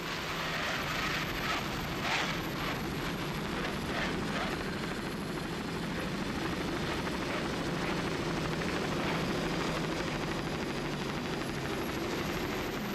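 A helicopter hovers over a 1996 Key West offshore powerboat race, giving a steady, fairly faint rotor drone with a rapid pulsing beat and a broad engine hum throughout, with no speech.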